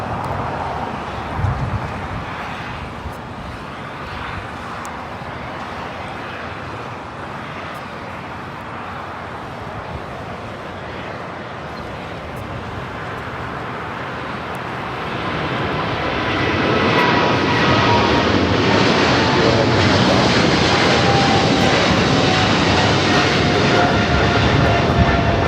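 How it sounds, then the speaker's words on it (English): A China Airlines Cargo Boeing 777 freighter starting its takeoff roll on runway 25L at Los Angeles airport: a distant jet rumble builds to a loud, sustained engine roar that holds through the second half, with no talking. "China Airlines cargo, the 777 freighter now rolling down the 25 left."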